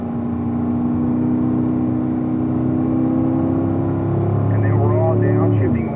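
A car runs at speed on a race track, its engine droning steadily and then climbing in pitch through an upshift near the end, with someone talking over it.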